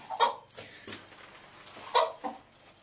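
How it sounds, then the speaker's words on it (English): A hen in a garden shed gives a few soft, short clucks at irregular intervals, fairly close but quiet, with no talk. "a chicken there. She's got a little baby chicken underneath her."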